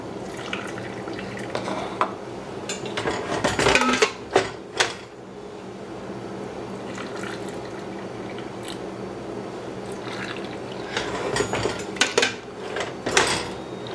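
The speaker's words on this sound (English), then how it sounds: "now I'm going to use the liquid from this pot to fill this up to 1/2 inch headspace" Hot liquid from a pot of mushrooms is poured into a canning jar, a steady low trickle marked by sharp clinks of metal and glass clustered near the start and end, close and moderately quiet.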